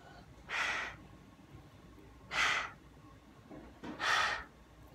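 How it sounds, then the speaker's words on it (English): A person wearing a gas mask breathes through its filter, three slow airy breaths spaced about two seconds apart, close and fairly soft against a quiet background. "My nose is breathing through the filter."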